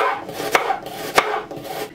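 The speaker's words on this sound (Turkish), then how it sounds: "Soğanları uzun uzun doğrayacağım" Onions being sliced lengthwise on a cutting board, with soft rasping knife strokes and two sharper knocks of the blade against the board, close and alone.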